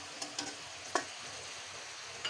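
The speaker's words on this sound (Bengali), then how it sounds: "এই যে কাঠুয়া ডাঁটাটা আগে কষাতে দিয়েছি" Kathua stalks sauté in a pan for a village-style vegetarian curry, giving a faint, steady sizzle with a few light stirring clicks and taps of a utensil against the pan.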